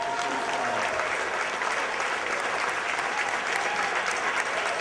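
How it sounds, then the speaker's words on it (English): A big round of applause for Stacy at Shanti's 38th annual dinner: a banquet crowd claps steadily and loudly, a dense continuous roar of hands lasting the whole stretch. "I'd just like to get a big round of applause for Stacy"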